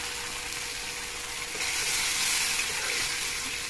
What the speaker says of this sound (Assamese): এইখিনি পানীখিনি নাইকিয়া হৈছে এতিয়া অলপ পানী দি দিম